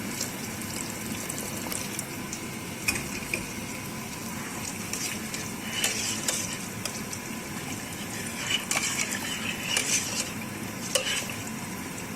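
Bone broth pours and churns into a pot of sour meatball soup, a steady watery gush and stirring with occasional light clinks of a utensil against the pot, close and moderately quiet.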